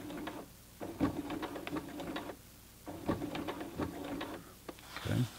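A Kenmore 19233 sewing machine tacks stiff buckram into a curtain header at very short stitch length, running in two close, rapid bursts of mechanical chatter with a pause between and a few handling knocks at the end.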